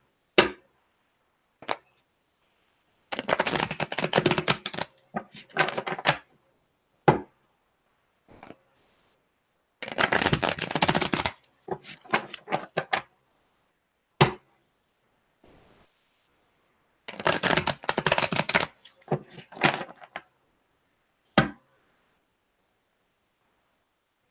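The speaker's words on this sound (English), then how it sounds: "while I'm shuffling the cards" Bursts of papery riffling as tarot cards are shuffled, three longer runs separated by silences and a few sharp taps.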